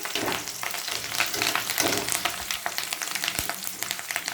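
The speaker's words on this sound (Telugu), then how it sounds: "ఇలా బాగా వేయించుకోవాలి" Curry leaves frying in hot oil for curry leaf powder, a steady crackling sizzle with scattered sharp pops, close and moderately loud throughout with no talk.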